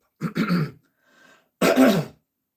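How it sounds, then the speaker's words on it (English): Someone nearby clears their throat in two rough bursts, with a faint murmur in the short pause between them. "Excuse me, clear my throat."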